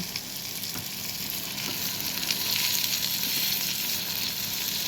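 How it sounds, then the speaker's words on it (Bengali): Leafy greens sizzle steadily in a hot frying pan as they are stirred in, a continuous close hiss of frying oil that builds slightly toward the end, with no voices. "এবার আমি শাকটা মিশিয়ে দেব"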